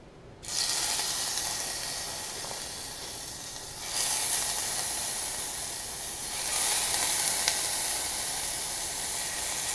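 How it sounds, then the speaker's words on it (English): Sous vide scallops hit a hot skillet with a sudden loud sizzle. Fresh surges of hissing frying noise follow as more scallops are placed in the pan, and the sizzle stays steady and close. "So I'm just going to take these scallops out of the bag and gently place them around in the skillet."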